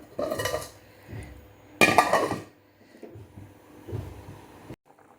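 Two sharp metallic clanks of a lid set onto a pot of simmering vegetarian fish gravy, each followed by a brief rattle, then quieter kitchen clatter.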